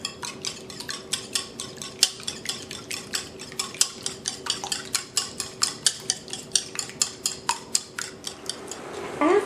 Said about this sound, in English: Beat eggs with a whisk.